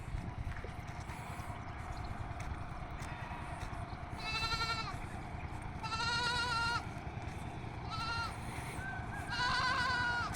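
A young goat bleats in several wavering, tremulous calls over steady low background rumble, each cry lasting about a second and spaced apart, moderately close.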